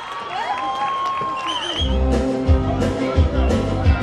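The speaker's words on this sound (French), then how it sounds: "Allez, on l'applaudit bien fort" A crowd at a fair applauds and cheers the newly crowned Miss Bourail 2019, the clapping and whoops swelling loudly after a few seconds of quieter sound.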